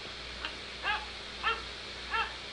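Dogs bark as a sound effect played from an interactive smart board lesson slide, four short yips in a loose sequence, thin and fairly quiet against a faint background hum.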